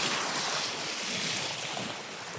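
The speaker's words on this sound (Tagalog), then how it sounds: "So ayan, dagat." Sea waves on a Philippine beach wash in as a steady, loud roar of surf mixed with wind noise on the microphone, with no voices heard.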